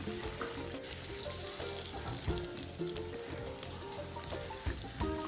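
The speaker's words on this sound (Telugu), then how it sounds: "ఫ్రై చేసుకోండి, లేకపోతే లోపలంతా కచ్చాపచ్చగా ఉండిపోతుంది." Pieces of chicken fry in hot oil for chicken mandi, a close, steady sizzle with crackling pops and occasional stirring clatter throughout.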